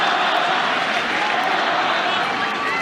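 A French Open tennis crowd roaring after a rifled forehand, a dense, loud and sustained wash of cheering and applause with a commentator's voice speaking over it.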